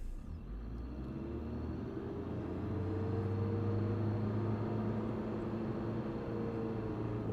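Diesel engine of a 2012 Ford Transit TDCi with a smoky exhaust and a loaded particle filter, revving steadily. A low rumble builds after a few seconds and holds loud and close, with no talk over it.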